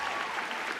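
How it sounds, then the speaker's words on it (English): Audience applause at a live esports tournament group-stage match, a dense, steady wash of clapping held at an even level for under a second with no voices standing out. "On peut les applaudir bien fort, s'il vous plaît."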